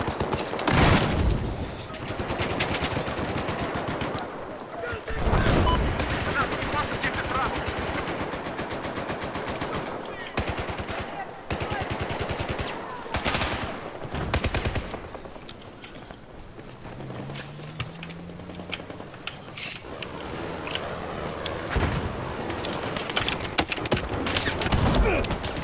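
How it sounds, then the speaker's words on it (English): Gunfire from a Battlefield 4 match, with bursts of automatic fire and sharp sniper shots scattered through a loud, dense game mix, plus other battle noise. "I just got sniped on the tower. After I sniped someone else who was shooting at me."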